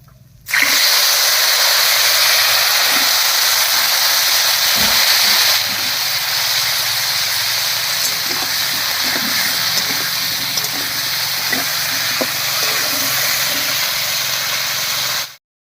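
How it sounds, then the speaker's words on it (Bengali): Pointed gourd frying in mustard oil with a pinch of salt and turmeric in a kadai gives a loud, steady, unbroken sizzle that runs almost the whole time with no voices. "পটলটা ভাজা হতে থাক"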